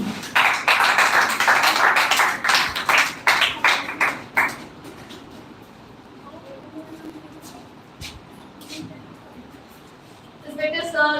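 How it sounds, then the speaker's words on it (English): Audience at a speech competition claps for a participant, a dense burst of applause with sharp individual claps for about four seconds, then fading into quieter room noise with scattered taps. "So please clapping for Miss Chandni."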